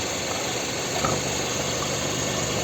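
The 2.0-litre petrol engine of a 2006 Kia Sportage 4x4 with manual gearbox idles steadily with a constant broadband hum and faint rattle, running continuously at moderate volume with no voices.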